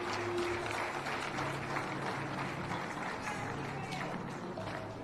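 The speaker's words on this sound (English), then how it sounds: "A big round of applause to Mr." Steady applause from an audience at a water sector report launch in Zambia, as an award winner goes up to collect a prize; even, continuous clapping at moderate level throughout.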